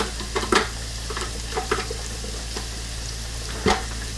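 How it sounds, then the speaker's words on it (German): Onions sizzle softly in a frying pan, a steady low frying hiss broken by a few brief clinks and stirring knocks, with no talk. "So, die Zwiebeln, die brutzeln schon vor sich hin"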